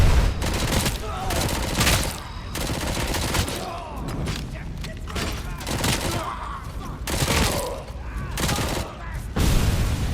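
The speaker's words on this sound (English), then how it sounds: "What was that? Who's shooting?" Gunfire rattles in Robocop: Rogue City, with loud, close bursts of rapid shots in repeated volleys separated by short gaps, and voices can be heard between them.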